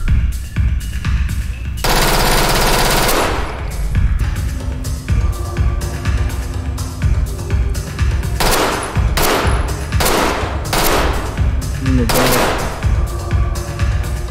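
Rapid bursts of automatic gunfire in the tactical shooter Ready Or Not, loud and close, with a long sustained volley early on followed by clustered cracks and short pauses.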